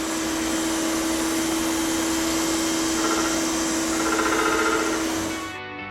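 A crank grinder whines steadily as it machines an Austin A40 crankshaft, a loud continuous motor hum with a strong tonal drone that tapers off near the end.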